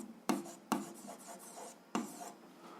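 Pen writing on paper during a 7th-grade algebra exercise, with faint scratchy strokes and a few sharper taps standing alone, no talking.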